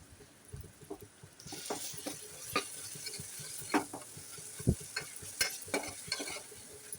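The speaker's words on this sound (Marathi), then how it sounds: "कांदा आणि टोमॅटो असं आपण आता एकत्र छान असं एकजीव करून घेतो आहे" Onion and tomato being stirred together in a frying pan for a Maharashtrian chicken curry, a soft, low sizzle with irregular scraping spoon strokes against the pan.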